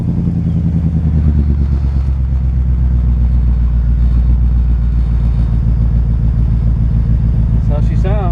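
A 1968 GMC truck on a converted 2500HD chassis idles through its new exhaust, a steady, moderately loud low rumble with even pulsing close by, running alone throughout.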